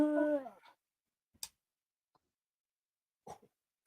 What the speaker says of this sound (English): why does my dog sound like he's dying?